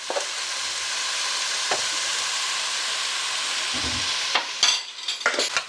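Chili powder and spices sizzling in oil in a stew pot, a steady close hiss that gives way to several scraping stirring strokes near the end.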